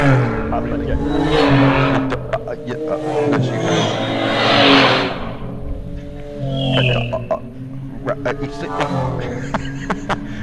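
Street stock race cars roar off the green flag start at Canterbury, engines rising and fading as the pack accelerates past, while an announcer talks over the racing.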